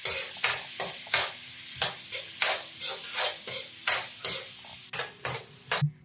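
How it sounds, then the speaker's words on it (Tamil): Finely chopped onion with cinnamon and fennel sautéing in oil in a kadai on low flame, loud rhythmic spatula scrapes in quick repeated strokes over a sizzling background, close and clear. "கூடவே ஒரு பெரிய சைஸ் வெங்காயத்தை பொடியாக அரிஞ்சிட்டு சேர்த்துக்கோங்க. லோ ஃப்ளேம்லேயே வச்சுட்டு இதை நல்லா வதக்கி விடுங்க."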